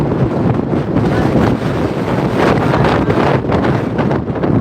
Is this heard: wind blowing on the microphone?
yes